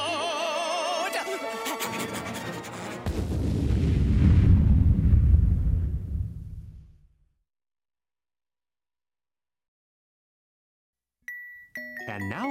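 A cartoonish explosion sound effect in a 1990s radio comedy bit: a deep rumbling boom swells over jingly music and fades into silence, and a short chime follows near the end.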